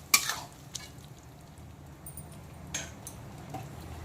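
Spice masala frying and being stirred in hot oil in a pan for a tangra fish curry with potol, green banana and potato, giving a soft, steady sizzle with a few faint scraping ticks of the spoon, close and quiet.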